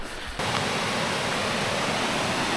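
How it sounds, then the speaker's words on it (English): A steady, dense rush of falling water, loud and close, starting abruptly after a brief quieter moment and continuing unbroken. "So here we are guys at the waterfall."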